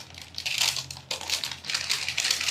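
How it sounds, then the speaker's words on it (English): Parchment paper is peeled back off layered craft vinyl with one hand, giving close, steady crinkling and rustling in two bursts split by a brief pause. "So now that we are pulling the parchment paper back"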